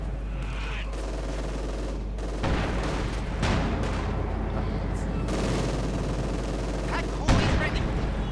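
Heavy machine gun fire rattles in Company of Heroes 2 among other battle noise, bursts and booms mixed with a continuous game soundscape while a voice talks over it.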